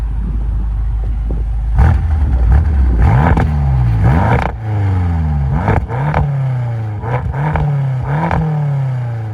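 A stock BMW F10 M5 with the S63 twin-turbo V8 revs repeatedly at close range, each blip climbing sharply and falling away with burbles and pops between, several throttle stabs in quick succession.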